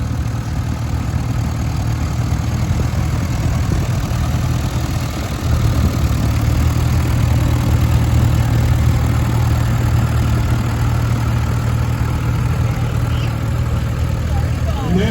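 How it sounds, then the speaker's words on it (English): A Massey Pony tractor runs at a steady low idle at an outdoor tractor gathering, with a constant rumbling hum while someone talks over it. "This Pony Massey is another tractor that's owned by the Swenson"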